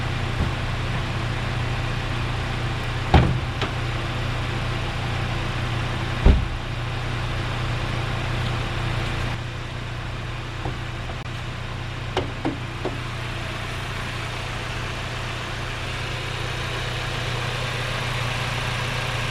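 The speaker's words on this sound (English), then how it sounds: "This 2-liter 4-cylinder with a turbo is transversely mounted." A VW Golf GTI's transversely mounted 2-liter turbocharged four-cylinder engine idles with a steady, even hum, and a few sharp knocks or clicks stand out nearby.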